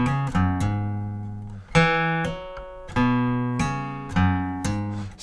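Acoustic guitar plays a short riff of picked notes, each followed by a hammered-on note, repeating in a steady rhythm four times with ringing sustain.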